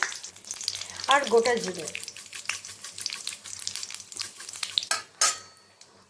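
Dried chillies, bay leaves and whole cumin dropped into hot mustard oil in a pan for a Bengali aloo dum, a sharp burst of sizzling and crackling, then clinks and stirring, with a brief spoken comment in the middle.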